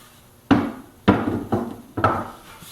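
Wooden panels of a planer stand knocked into place: four sharp wooden thumps at roughly half-second intervals, each with a short resonant decay, close and alone with no talk.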